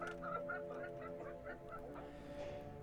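Roosters and ducks carried in baskets cluck in quick repeated bursts over a steady droning background, as a sound effect in a Hindi audio story.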